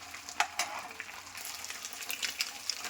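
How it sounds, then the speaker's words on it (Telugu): Eggs sizzling in a pan with curry leaves, a soft, steady frying crackle with a few sharper pops, close but fairly quiet. "ఇప్పుడు వీటిని మంచిగా ఫ్రై చేయాలి."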